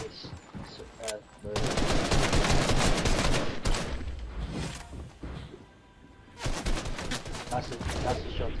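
Rapid automatic gunfire bursts in a Fortnite Battle Royale match, loud dense volleys separated by short quieter gaps, with a brief lull before a final burst.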